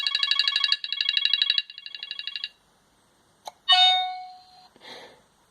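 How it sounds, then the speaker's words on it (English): A prank sound transmitter plays phone sound effects: a loud electronic trilling ringtone in three bursts, then a short click and a bright descending electronic tone, ending with a fainter brief noise. "The next one down is phone sounds."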